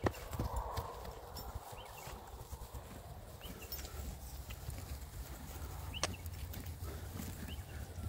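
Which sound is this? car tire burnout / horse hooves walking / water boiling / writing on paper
horse hooves walking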